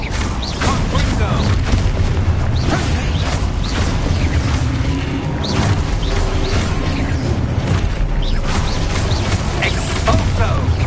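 Fiery Confringo blast spell explosions during Hogwarts Legacy combat, a dense, loud continuous barrage of booming bursts and crackling impacts layered over game music and effects.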